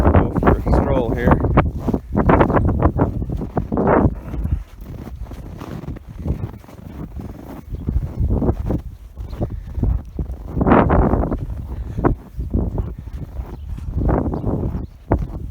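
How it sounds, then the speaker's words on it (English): Strong wind gusts across an open snowy field on a cattle farm, roaring and buffeting the microphone in uneven surges throughout, with a voice speaking over part of it. "So this cotton picking wind picked up, so it's no good."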